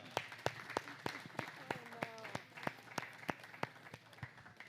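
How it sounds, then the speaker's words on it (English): Audience at a business talk clapping, a sparse, slow run of distinct individual claps spaced evenly through the room, fairly faint, with some voices murmuring underneath. "We will clap for you, too,"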